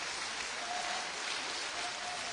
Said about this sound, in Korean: 박수가 나오잖아요